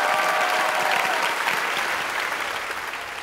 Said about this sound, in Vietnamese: Một tràng pháo tay cho bốn thí sinh thưa quý vị.